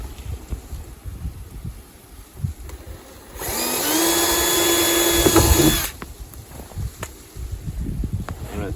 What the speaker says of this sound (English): I'm going to drill right in the middle of that dimple.